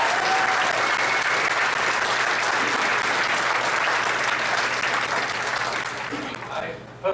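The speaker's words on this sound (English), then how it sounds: "join with me in a sincere applause for the Chomatizer" Loud, sustained applause from the crowd at a school graduation ceremony as a speaker is introduced, a thick continuous wash of clapping that tapers off in the final second.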